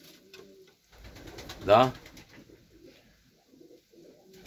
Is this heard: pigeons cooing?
yes